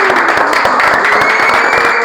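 Studio audience applause, a loud, dense burst of clapping from a crowd, close and steady for a couple of seconds.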